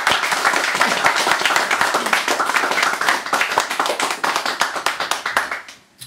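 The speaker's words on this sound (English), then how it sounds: "More applause, please" Audience applause after a reading, a dense burst of many hands clapping loudly at first, then thinning into scattered claps and fading out at the end.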